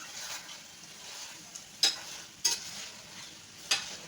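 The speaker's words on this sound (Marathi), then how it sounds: "चांगल्या ढवळून मिक्स करून घ्यायचं" Paneer chilli mixture stirred in a pan, a soft steady sizzle with three sharp spatula scrapes or clacks spaced across a few seconds, fairly quiet and close, no talk.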